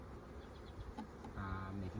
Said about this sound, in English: I can see already that the next one is full of bees